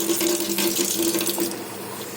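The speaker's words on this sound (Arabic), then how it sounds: "وهنحط حبه ميه كده صغيرين." A steady stream of water pours into a small Turkish coffee pot (cezve), a continuous close splashing rush that lasts throughout and fades slightly at the end.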